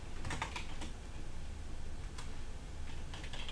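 Keys clack on a computer keyboard in short bursts of typing, light and close, with no talk.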